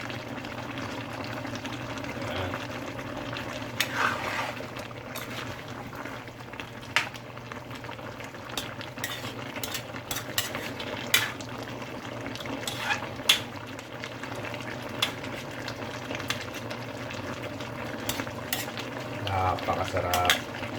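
Chicken curry simmers and bubbles in a pot while a spoon stirs it, with a soft ongoing sizzle and boil broken by frequent light clinks and scrapes of utensil against metal, steady and close throughout, without speech.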